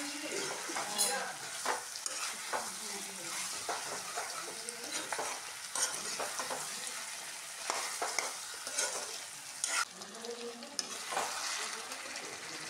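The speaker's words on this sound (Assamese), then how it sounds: "এয়া মই এতিয়া ভাজি আছোঁ গোটেইখিনি একেলগে।" Meat sizzles and fries steadily in a pan while a utensil stirs and scrapes through it in irregular strokes, close and continuous with a soft hiss underneath.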